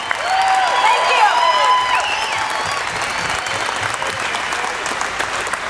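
Large crowd at a Tea Party rally breaking into loud, sustained applause with some cheering and whistles, clapping dense and continuous throughout while voices call out within it.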